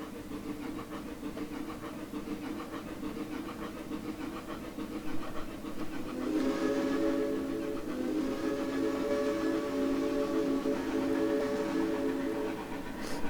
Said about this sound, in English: the chuff rates are sped up for that, so you get the extra chuff for those for that third cylinder